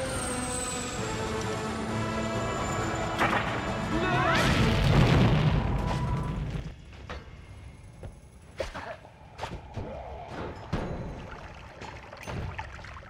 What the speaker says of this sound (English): Like Rambo, I am immune to explosions.